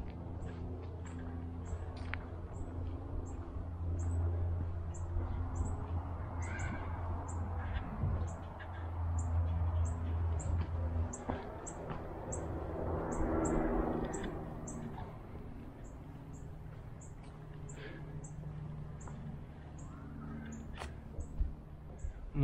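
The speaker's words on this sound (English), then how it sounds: "I'm listening to the birds," Small birds near Santa Fe Lake in Augusta, Kansas give thin, high chirps at a steady, repeating pace throughout a quiet outdoor scene, with faint rustling and low ambient noise underneath.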